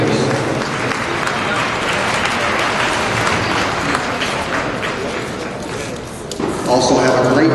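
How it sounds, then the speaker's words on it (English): Audience applause fills an arena during a market hog show, a steady dense clatter of many hands that swells again near the end, with some voices mixed in. "How about a collective round of applause for these individuals?"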